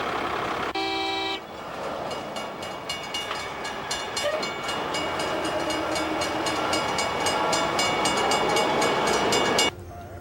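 Trains idling and rolling through a rail yard, a steady loud rumble with a bright horn toot near the start and a continuous engine drone throughout, no one talking.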